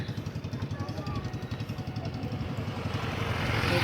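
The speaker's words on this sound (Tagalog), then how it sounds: "May dumaan na motor." Motorcycle engine putting along with a rapid, even low thump, growing slightly louder and brighter toward the end as it passes nearby outdoors at a port.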